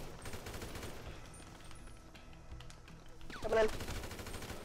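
Bursts of rapid gunfire from a GTA Online firefight crackle through the background at moderate distance, with a louder flurry near the end, while players talk over it.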